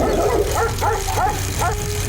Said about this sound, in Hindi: कुछ कुत्ते राजेश की साइकिल को देखकर भौंकने लगते हैं।